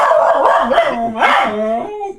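Dog barking and yipping close by, a quick run of loud, pitch-sliding, howl-like barks that fades into a whine.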